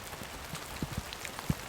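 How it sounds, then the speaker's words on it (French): Heavy rain falls on a building site at a house, a soft steady patter with a few louder drops striking close by. "c'est grosse pluie"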